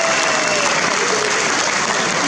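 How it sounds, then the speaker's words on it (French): An audience at a youth chess championship prize ceremony in Agen, 2018, applauds the volunteers. Loud, dense clapping from many hands runs continuously from start to end, steady and close. "Et effectivement on peut les applaudir, les remercier du temps, la disponibilité,"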